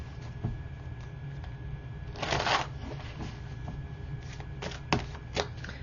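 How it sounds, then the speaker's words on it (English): Tarot cards are shuffled by hand, a steady papery riffle and slide close by with a couple of brighter bursts of flicking, quiet and continuous with no speech. "let's pull 3 more cards and see if there's anything else here that needs to be said"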